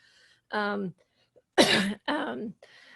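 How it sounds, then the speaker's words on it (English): Two or three harsh, voiced coughs close to the mic in a home, separated by short pauses, with a quieter breathy sound at the end. "coughing these days is always very dicey"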